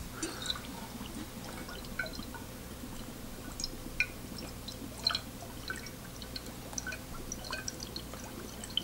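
Red wine drips and trickles through a Soiree in-bottle wine aerator, a quiet run of scattered small drops and fizzing bubbles over a low background hum.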